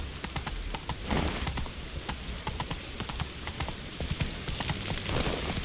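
Hooves of the horse Roach walking along a path in The Witcher 3, a quiet, steady clip-clop rhythm of repeated footfalls under a faint ambient game soundtrack, with no talk.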